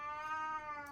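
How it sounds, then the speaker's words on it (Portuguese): A house cat gives a single short meow, sustained and tonal, faint but clear and alone. "E esse é meu gato."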